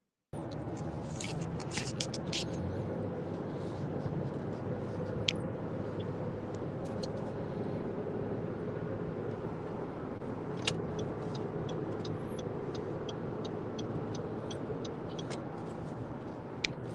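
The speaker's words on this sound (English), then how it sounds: "See, that car is loud." A loud car rumbles past in a continuous broadband roar that holds steady throughout, with scattered faint clicks on top.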